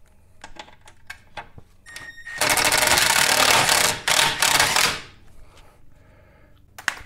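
A powered impact wrench hammers bolts in on trail armor for a KRX, with a sustained loud rattling burst of about three seconds after a few light clicks, then a brief pause and a shorter second burst.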